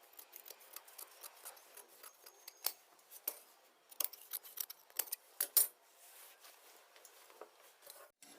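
Scissors snip through kameez fabric in a run of quick, crisp cuts, close and fairly quiet, with a few louder snaps near the end and no voices.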